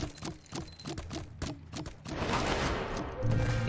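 Rapid artillery fire aimed at new enemies in the game Dome Keeper, a quick string of evenly spaced shots followed by a denser, continuous rumble of impacts, loud and close with no talking.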